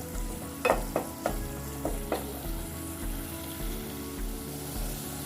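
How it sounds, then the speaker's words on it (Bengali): Onion, garlic and ginger paste fries for pigeon curry, sizzling steadily close by while a spoon stirs and knocks against the pan in a few sharp strokes, then settles into a softer fry. "পেঁয়াজ বাটার সাথে মিশিয়ে ভালো করে কষিয়ে নেব"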